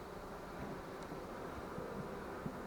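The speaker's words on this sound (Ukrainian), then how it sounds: "Але все ж таки це рій, це роєва матка, це сила роя." A honeybee swarm with its swarm queen, being settled into a hive at an apiary in the evening, gives off a faint, steady, diffuse buzzing hum that stays even and distant throughout, with no talking.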